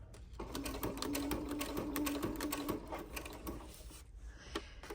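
Sewing machine stitching a shaker plate pocket, running steadily at close range with a rapid mechanical whir and ticking rhythm for most of the clip, then slowing and pausing briefly near the end.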